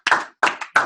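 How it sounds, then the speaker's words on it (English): Three short bursts of hand clapping at a leadership academy summer kickoff gathering, each a quick cluster of claps that fades before the next, close and fairly loud with no talking. "A round of applause."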